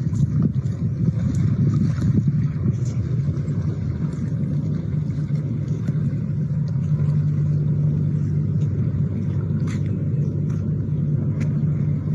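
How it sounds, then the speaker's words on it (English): Steady wind buffeting at a sailing venue, a continuous loud low rumble of gusts against the microphone with a faint engine-like drone running underneath throughout. "The wind picked up absolutely perfect."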